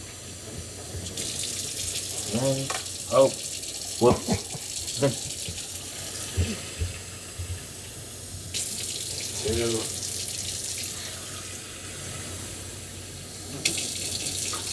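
Kitchen tap water running into a rice cooker pot as water is measured for cooking rice, a steady splashing stream with a few bumps and clinks, and brief speech over it.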